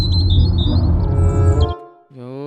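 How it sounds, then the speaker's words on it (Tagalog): Birds squawk loudly in quick, harsh repeated calls over a dense bed of tree ambience, then the chatter cuts out and a single long squawk follows alone. "So we know pag maraming kahoy, mayroon talagang mga birds."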